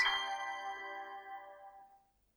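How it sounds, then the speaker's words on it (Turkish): A single bright electronic power-on chime from a Dreame L10S Ultra Gen 2 robot vacuum, placed in its station, rings out clearly and decays smoothly over about two seconds in a quiet room. "İstasyona süpürgeyi yerleştirdiğinizde otomatik olarak açılacak ve bu sesi duyacaksınız"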